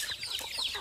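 Small pet chickens at a rural home make soft rapid clucks and peeps in a brief, faint burst.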